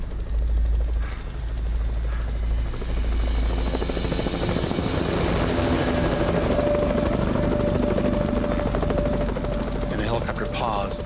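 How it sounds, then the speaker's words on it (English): A search helicopter hovers over the Colorado Rockies, its rotor chop a loud, continuous low thumping with turbine whine rising toward the end. "the helicopter paused and started searching with the searchlight"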